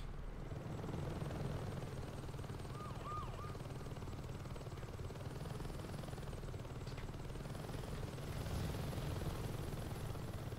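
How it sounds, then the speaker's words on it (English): A helicopter in the video game Saints Row 2, its steady rotor drone running continuously at moderate distance, with a brief whistling tone partway through. "You take a helicopter and blow those things up"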